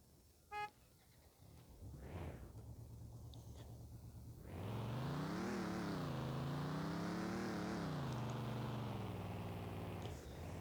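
A BMW i8 in the Rebaixados Elite Brasil video game gives a brief beep and low idle, then its engine revs loudly, wavering up and down in pitch for several seconds.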